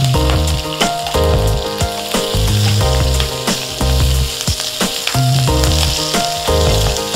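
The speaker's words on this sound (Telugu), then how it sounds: "కొంచెం పచ్చి స్మెల్ పోయే వరకు ఫ్రై చేసుకోవాలి." Spinach frying in a pan for a palakura pachadi, a loud continuous sizzle with rhythmic scraping and stirring strokes recurring through the whole stretch.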